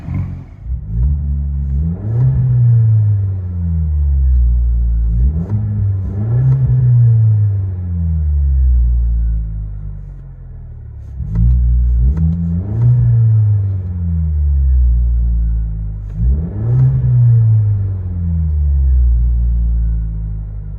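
2019 Chevy Silverado 2.7L turbo four-cylinder with Black Widow Widow Maker exhaust, heard from inside the cab: a deep droning rumble rising and falling through four revving pulls, loud and close with faint clatter.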